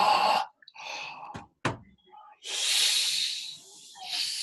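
A person inhales breath across the shape of a sound, giving long airy hissing draws in several separate pushes with short gaps between them, close up and fairly loud.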